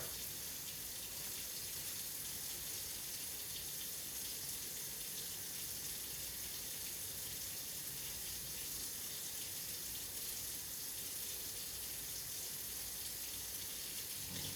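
Water runs from a kitchen faucet while warming up for mixing homemade pasta dough, a steady, even hiss of flowing water that continues unchanged and fairly quiet throughout, with no talking.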